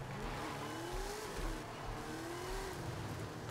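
A Cadillac limousine drives in Forza Horizon 5, its engine holding a steady, continuous rumble with rising and falling revs, close and loud, with no talk over it.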